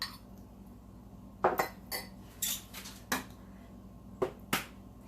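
Store-bought eggs cracked one at a time against a dish in a farm kitchen while making chicken and dressing, heard as a handful of sharp, separate taps and clinks spaced across quiet moments.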